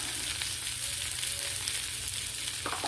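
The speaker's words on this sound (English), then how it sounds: "We're going to put down a little bit more oil to" Oil sizzles and spits steadily on a Blackstone griddle around chicken drumettes, a close, continuous frying hiss with a few sharper crackles near the end.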